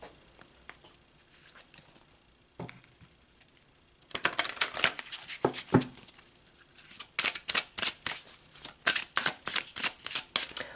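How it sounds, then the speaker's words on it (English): Tarot cards are shuffled by hand, first in soft scattered riffles and then in a fast, steady run of crisp close flicks and slaps as cards are pulled. "So let's pull some more cards."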